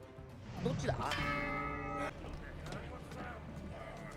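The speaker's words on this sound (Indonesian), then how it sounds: "Tetapi karena kecerobohan Luffy, dia pun tidak sengaja memukul lonceng yang membuat seisi kapal terbangun." A single bright metallic strike of a ship's bell rings out and sustains for about a second before cutting off, with faint background noise around it.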